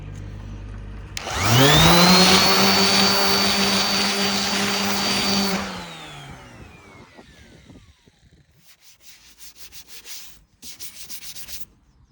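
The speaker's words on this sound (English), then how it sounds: "this is 180 to flatten out this damage." Sanding block with 180-grit paper worked over a minor scrape on a plastic car bumper, a loud steady abrasive rasp for about four seconds that stops abruptly, followed by faint handling noises.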